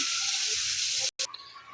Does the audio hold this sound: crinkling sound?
no